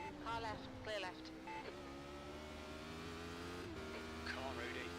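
A race car in the iRacing sim sweeps past on the left, its engine note rising and falling as it goes by, with a steady drone of engines underneath and a spotter's voice calling positions over it.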